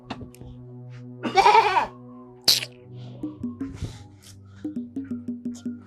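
A goat bleats loudly and close by in a village setting, giving several wavering cries followed by quick, rhythmic bursts of bleating, with a few sharp knocks and rustles between them.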